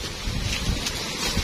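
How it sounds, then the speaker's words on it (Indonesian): Steady rain falls outdoors on a coastal slope, a dense, continuous hiss of drops with a low rumble underneath and no voices. "Bang, hujan ini bang."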